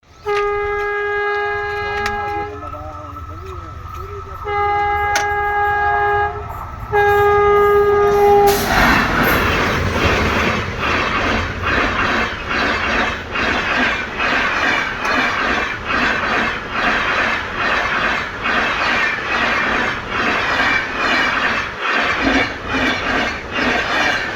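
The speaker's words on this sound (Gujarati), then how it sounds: "ફાટક તો બંધ છે કારણ કે રેલવે આવવાનો ટાઈમ થઈ ગયો છે" A loud, steady train horn blares at a closed railway crossing, then a train rumbles past close by with rhythmic clattering wheels that continue to the end.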